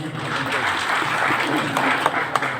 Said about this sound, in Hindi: तो जिनने हाथ ऊंचा किया उनके लिए जोरदार ताली बजाने